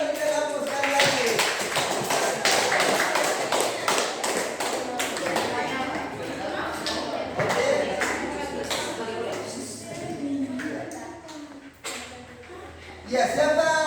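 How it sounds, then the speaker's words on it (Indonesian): A classroom of students claps together in a sustained burst of applause after a group presentation, with dense, overlapping claps and voices talking throughout. "kita berikan aplaus sekali lagi"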